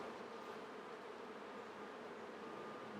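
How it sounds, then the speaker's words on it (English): Honeybees buzz during a hive inspection in a steady, continuous drone that holds close and even throughout, with no voices. "Blow gently, disperse the bees."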